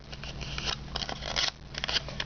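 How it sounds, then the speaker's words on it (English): Origami paper being creased and folded while making a paper turkey, close crisp rustles and crinkles in short bursts, alone with no talking. "and then fold it in"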